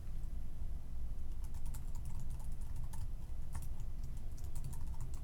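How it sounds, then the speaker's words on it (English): Quick, steady typing on a computer keyboard while entering a username and password, a dense run of close, crisp key clicks with no talking. "Just got to type that in."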